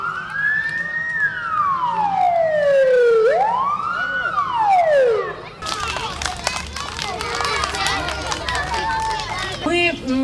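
A fire engine siren wails loudly, sweeping down and up in long slow cycles for about five seconds, then a noisy bustle of movement and voices takes over.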